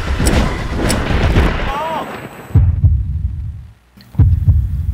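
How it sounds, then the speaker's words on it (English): Heavy, low heartbeat thumps sound in a song, a few spaced beats over dense music that drops away briefly before the pulses return. "Oh. Heartbeat."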